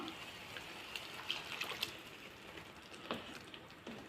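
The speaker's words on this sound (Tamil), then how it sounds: "நம்ம மிக்சி ஜார் தண்ணியை ஊற்றி விட்ருவோம்" Rinse water from a mixer jar is poured into a simmering green bean kurma, a soft, quiet trickle and splash with a few brief gushes.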